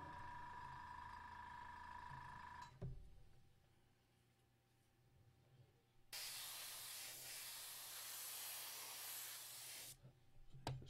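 An airbrush sprays paint onto a model of a Mechanicum Ordinatus Sagittar, a steady broad hiss after a pause and a shorter earlier spell of spraying, with no talking.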